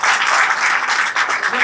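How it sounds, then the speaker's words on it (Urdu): An audience of traders at a market association committee meeting applauds steadily, a dense, sustained wash of clapping close at hand with a voice faintly mixed in. "آپ کی تالیوں کی گونج بتائے گی مجھے"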